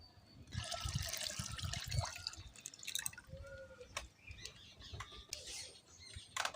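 Water splashes and drips from a milk packet into a wok already holding milk, a soft, close trickle with scattered drips and faint bird chirps in the background.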